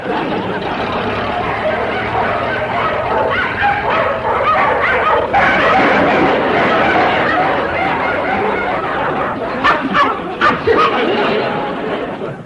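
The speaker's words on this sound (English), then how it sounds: "Them dogs look hungry enough to run him to the state line." A pack of hungry hounds barks and yelps continuously in pursuit, with excited yips and whimpers layered over a busy, loud chase; voices can be heard amid the racket.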